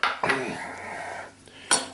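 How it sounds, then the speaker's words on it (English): Bowl and utensils clatter while eggs are mixed for homemade tapioca pudding, with a sharp clink at the start, steady stirring scrapes in between, and another bright clatter near the end. "I'm going to get the eggs mixed up in that bowl."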